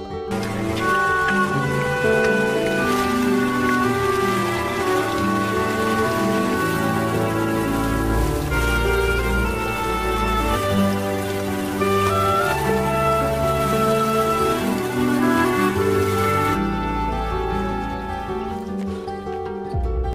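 Steady rain falls throughout over a school garden, a dense continuous patter mixed with a sustained musical bed, with no voices.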